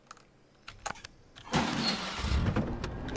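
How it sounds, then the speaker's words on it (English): A worn-out bus engine in the Bus World video game, a faint idle with a few soft knocks that swells at about a second and a half into a loud, rough, steady rumble and whine that carries on to the end, with no talk. "This bus just sounds knackered all the time, doesn't it?"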